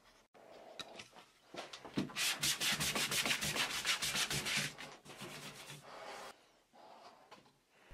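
Close, rapid back-and-forth sanding strokes rasp rhythmically on a Stratocaster guitar's wooden neck at the nut slot, building in a dense burst before slowing into a few scattered rubs.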